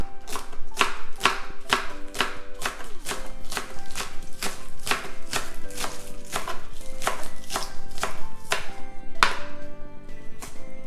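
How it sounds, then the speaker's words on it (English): A knife thinly slicing green onions on a cutting board, a brisk, even series of sharp chopping taps, close and clear, continuing steadily throughout with no talking. "thinly slice the green onions."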